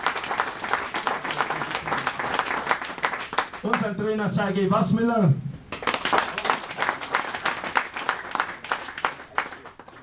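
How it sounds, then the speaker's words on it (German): An ice hockey crowd at the EHC Bayreuth vs EV Regensburg press event applauds the coaches, with dense clapping that briefly drops away while an announcer speaks, then resumes strongly. "Großer Applaus."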